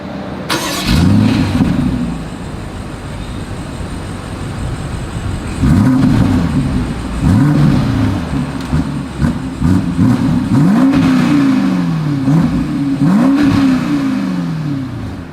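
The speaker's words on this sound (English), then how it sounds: "As always, here is that exhaust clip." A BMW X5 with dual exhaust and satin chrome tips starts up and is revved repeatedly, loud and close, with several sharp rising-and-falling engine bursts over a steady idle and no talking.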